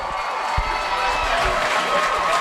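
Dense roar of a large football crowd at a Potato Bowl high school game between the Matanzas Pirates and FPC Bulldogs, cheering steadily as a team runs onto the field, with a few low thumps underneath.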